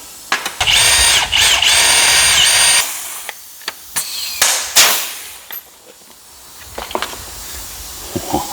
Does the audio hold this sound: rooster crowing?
no